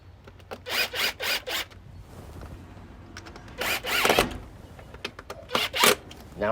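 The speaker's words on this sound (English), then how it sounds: "We're just snapping the bike lock, and we're good to go." A bike lock clicks into its frame mount with several short, sharp plastic snaps and rattles in quick bursts, loud and close, alongside some handling noise.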